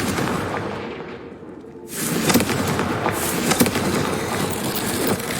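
A Confringo fire spell explodes in the Hogwarts Legacy video game. A broadband blast bursts in about two seconds after quieter ambience, then a loud, sustained rumbling crackle follows with a few sharper cracks.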